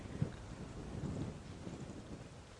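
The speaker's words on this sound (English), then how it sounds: "You can actually probably hear the wind howling." Steady, low rushing wind on an evening safari drive buffets the air with a soft, continuous roar and occasional gusty thumps, with no voices present.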